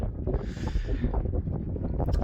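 Wind buffets the microphone on the mountain top above Buttermere during a Lake District wild camp, a continuous low roar that swells and eases in gusts for a couple of seconds, with no other sounds.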